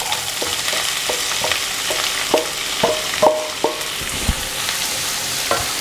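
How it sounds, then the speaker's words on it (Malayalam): Sliced onions tipped into a pan of frying ginger and garlic for an egg masala, hissing with a steady sizzle while a spoon scrapes and taps the pan in a regular stirring rhythm, close and loud. "ഇനി അതിനകത്തോട്ട് സവോള ചേർത്ത് കൊടുക്കുകയാണ്."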